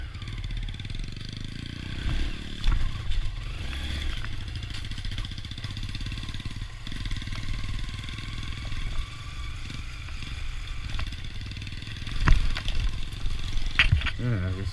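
A Honda Grom motorcycle climbs up and over a log on a trail ride, its mid-pitched engine revving with clattering bumps and a sharp surge near the end, close up under wind noise.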